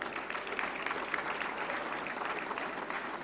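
Strong, continuous applause fills an Indian national film award ceremony hall, a broad steady wash of many hands clapping, heard at a distance and fairly soft, with no speech over it.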